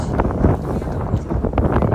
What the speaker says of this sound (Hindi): बहुत तेज़ हवा चल रही थी